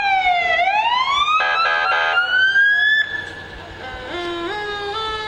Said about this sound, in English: And the fire trucks. You might recognize them from the sirens.